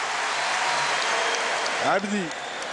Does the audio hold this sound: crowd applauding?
yes